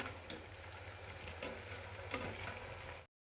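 Manchurian balls frying in hot oil, a continuous soft crackling sizzle with a few sharper pops, fairly quiet and steady for about three seconds before cutting off abruptly.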